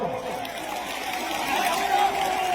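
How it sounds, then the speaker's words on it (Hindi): Audience at a mushaira poetry gathering clapping and cheering, a dense crowd wash that swells slightly toward the end, with voices mixed in. "चलो ताली बजा के एक मरतबा"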